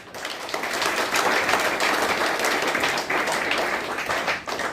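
A crowd inside a large pavilion at a religious gathering claps in sustained, dense applause, loud and continuous for several seconds before tapering slightly at the end.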